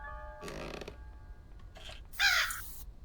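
A crow in the Granny Recaptured video game caws a few times, with harsh, scratchy calls spaced apart and the last one loudest, set against a quiet background with no talk.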